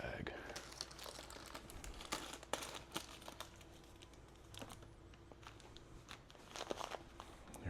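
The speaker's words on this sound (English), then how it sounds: "So cut this bag." Plastic bag of lentils being cut and handled in a kitchen, with quiet crinkling and sharp rustling bursts scattered across the clip, fairly faint.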